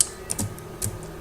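Keys clack on a computer keyboard while someone enters programming commands; a handful of distinct, irregularly spaced keystrokes sound close and clear against a quiet background, with no talking.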